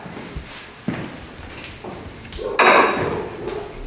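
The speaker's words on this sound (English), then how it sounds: "The door is closed, and the machine's actually going to tilt back." An alkaline hydrolysis machine at a funeral home tilts back with a series of mechanical clunks and shifts, then a louder grinding, hissing surge of motor noise near the end.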